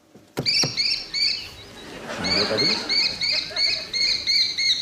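A bird call serves as a contestant's buzzer on a British comedy quiz show, sounding as a run of bright, repeated chirps that keep recurring over voices and studio noise.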